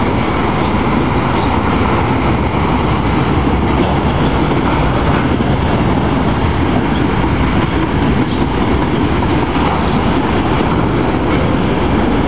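A Norfolk Southern GE Evolution diesel locomotive and its train pass very close and loud, a continuous heavy rumble with rolling wheel clatter and no voices.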